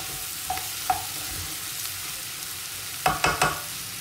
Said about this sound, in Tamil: இப்பொழுது இறாலை போடுகிறார்கள்.